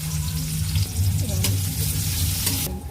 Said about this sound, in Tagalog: ilagay ko muna yung bawang. Sunod na rin natin yung sibuyas.